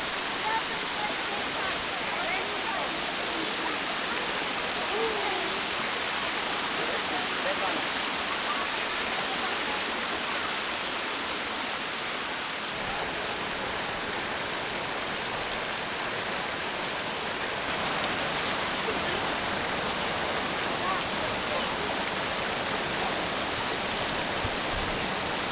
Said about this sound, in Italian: Stiamo a una cascata qui.